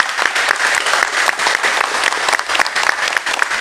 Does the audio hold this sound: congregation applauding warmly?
yes